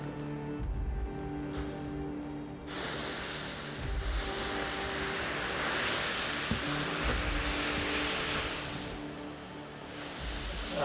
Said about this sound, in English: use a ladle to introduce a small amount of water to quench the burning charcoal and make it easier to see where the metal is. A word of warning, this will produce a lot of steam